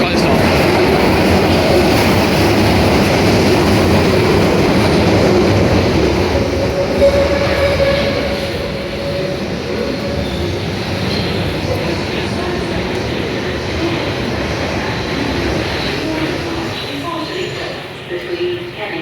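A London Underground Central line train bound for Ealing Broadway rumbles loudly into a station with rattling wheels and some squeal, then eases and fades toward the end, with voices heard in the background.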